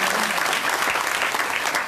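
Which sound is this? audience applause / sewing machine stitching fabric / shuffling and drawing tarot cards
audience applause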